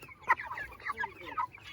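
Cornish Cross meat chickens on a homestead cluck in a quick, uneven run of short calls at close range, with no talk over them.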